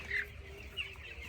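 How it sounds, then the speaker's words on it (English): Chicks at a hen farm cluck and peep softly in a few brief calls over a low steady farm hum. "Today we are at a hen farm and look at all these chicks."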